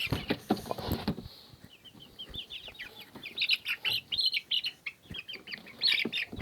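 Chickens cluck and chirp in quick, uneven bursts, with a rooster among them, fairly close and moderately loud, a few thumps at the start.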